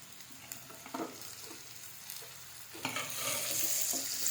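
Onions and capsicum fry in a pan, a steady soft sizzle with a few stirring scrapes and clinks, growing a bit brighter and hissier toward the end, with no one talking.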